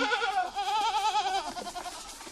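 Goats bleating on a small village goat farm with several does and a buck: a wavering, quavering bleat that stretches over about two seconds, fairly close and clear with no talk.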